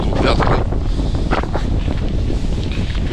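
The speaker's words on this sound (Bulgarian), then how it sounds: "Не знам дали се чува нещо от вятъра" Heavy wind buffets the microphone on a hillside above Han Krum village near Shumen, Bulgaria, during a strong-wind warning, a constant loud low rumble that nearly buries the speaking voice.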